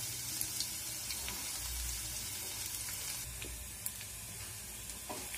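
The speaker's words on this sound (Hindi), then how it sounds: "अब इसमें डालेंगे लहसुन की कलियां जो हमने काट ली थी" Chopped garlic cloves frying in a pan, a steady soft sizzle with faint clinks and stirring, quiet and close, with no talk.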